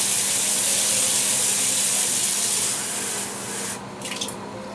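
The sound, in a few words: pouring water into a pot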